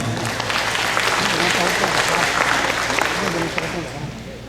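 An audience at a Hmong business gathering applauds the hosting community school, a full, steady round of clapping lasting several seconds before tapering slightly, with voices talking over it.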